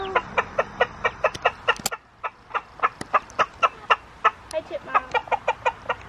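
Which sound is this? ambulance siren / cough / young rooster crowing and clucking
young rooster crowing and clucking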